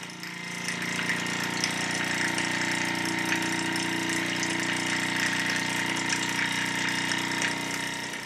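A small model steam engine runs steadily with a fast mechanical chuffing and hiss, continuous and close, with no voices.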